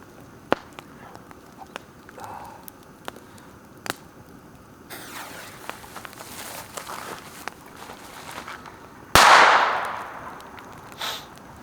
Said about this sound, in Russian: Сейчас бахнем петарду, чтобы звери знали, что мы здесь.